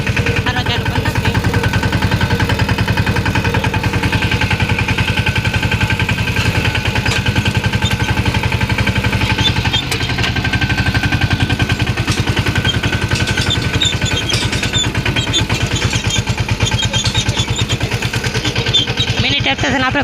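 A mini tractor engine runs steadily throughout, a loud, close, continuous chugging drone with a rapid regular pulse and no pauses or words.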